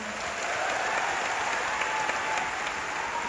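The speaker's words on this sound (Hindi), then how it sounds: "एक बार उनके लिए जोरदार तालियां" Dense, steady applause from an audience at a success testimony event fills the whole stretch, loud and continuous with no pauses or voices on top.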